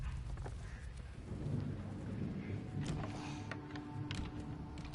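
Steady heavy rain in the Silent Hill 2 Remake, a dense low rumble with brief sharper crackles, continuous and fairly loud with no voices.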